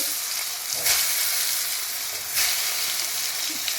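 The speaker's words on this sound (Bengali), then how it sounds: "তারপরে বেগুনটা ভেজে নেব।" Eggplant fries in hot oil, giving a constant hissing sizzle that swells briefly twice, heard alone at moderate loudness.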